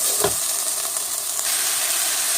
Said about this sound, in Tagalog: Saute the onion and garlic.